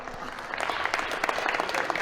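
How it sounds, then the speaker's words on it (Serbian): A boxing event crowd applauds a boxer with steady clapping throughout, building slightly louder partway through, with no clear voices over it. "aplauz za to, ajmo, bravo!"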